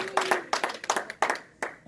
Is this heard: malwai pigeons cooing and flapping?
no